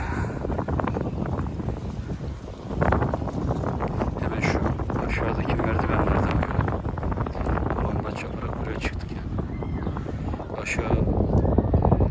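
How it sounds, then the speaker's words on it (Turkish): Cool gusty wind buffets the microphone in a loud, rumbling roar that rises and falls, with a person speaking faintly under it, at Şanlıurfa Castle, Turkey. "Serin bir rüzgar esiyor."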